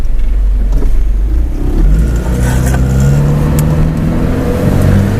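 A 1987 Vauxhall Astra 1.3 automatic pulls away and accelerates, its engine a steady low drone that rises gradually in pitch across several seconds, heard from inside the car without talk.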